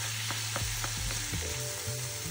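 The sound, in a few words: garlic and tofu frying in olive oil in a pan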